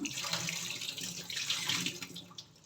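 Water runs from a kitchen tap into a bottle that is being washed to clear a chocolate milk smell, a steady close splashing rush that continues without a break and with no speech.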